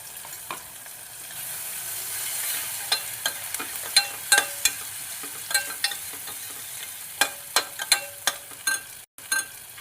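Boiled chickpea paste stirred into a hot pan with garlic paste for a chana soup, a low sizzle under a run of sharp spoon-on-pan clicks and scrapes, spaced irregularly and growing busier toward the end.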